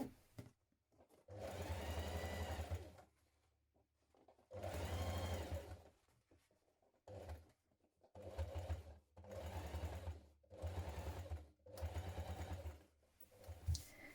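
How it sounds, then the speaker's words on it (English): A sewing machine top stitches a pressed seam onto the side panel of a tote bag, running in six close bursts of steady whirring separated by short pauses, loud and alone. "we're going to press our seam towards our side panel and top stitch onto it"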